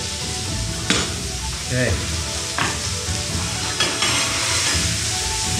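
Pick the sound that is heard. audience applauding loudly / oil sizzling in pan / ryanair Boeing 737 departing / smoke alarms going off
oil sizzling in pan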